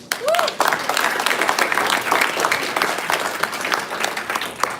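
An audience at an International Women's Day event applauds in a steady, full round of clapping that runs the whole stretch, with a voice briefly heard over it.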